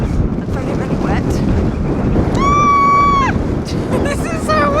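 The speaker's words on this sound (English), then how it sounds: "This is so windy!" Strong wind buffets the microphone in a constant low roar, with faint bird calls whistling through it, in wet weather on the North Coast 500 in Scotland.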